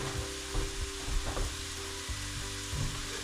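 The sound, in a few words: stir-frying egg fried rice with carrots and peas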